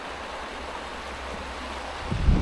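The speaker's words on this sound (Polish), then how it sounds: "tu szum tylko wody" Continuous broadband rushing of water, steady and moderately loud, with a low rumble swelling near the end.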